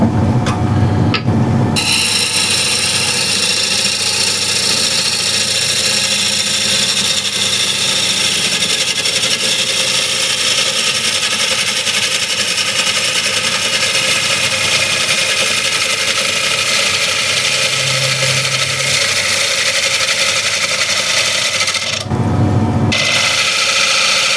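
A wood lathe blade cuts a Raffan-inspired bead bowl, a steady loud whirring drone of the spinning workpiece and tool running continuously, with brief pauses near the start and end.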